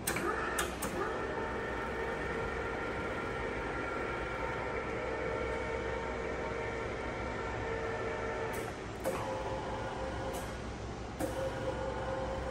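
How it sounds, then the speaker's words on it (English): A German WMW BS 40 column drill machine runs its motorized vertical travel with a steady, moderate mechanical hum, broken by a few sharp clicks at the start and again later in the run. "Now show me motorized vertical travel."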